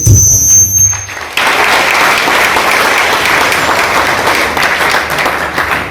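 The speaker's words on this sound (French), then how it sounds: "Et je demande à l'assistance d'acclamer." An audience at a World Environment Day event in Isiro breaking into loud, sustained applause for the speakers, dense clapping filling the room after a brief moment of speech at the start.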